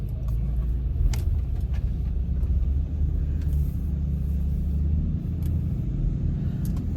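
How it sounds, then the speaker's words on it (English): A car rolls past a house and turns into the driveway, its low engine rumble steady and fairly close throughout, with no one speaking. "Where is this car going?"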